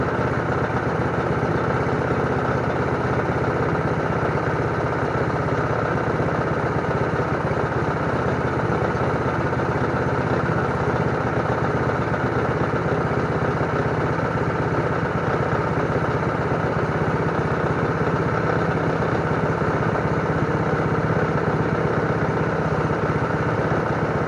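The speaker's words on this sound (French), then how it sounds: "on met le throttle à fond pour que l'huile circule plus facilement dans le moteur" A Husqvarna snow blower engine runs at full throttle, a loud, close and unbroken steady drone with a rough buzzing texture that holds constant throughout, with no talk over it.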